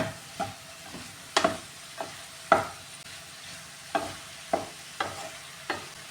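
Spatula scraping and stirring ivy gourd and carrot stir-fry in a pan over low heat, about ten sharp intermittent scrapes over a soft background sizzle.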